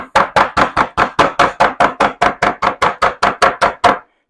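Steady, rhythmic pounding of cube steak with the flat side of a meat tenderizer, about seventeen loud, evenly spaced dull thuds in quick succession, alone with no talking.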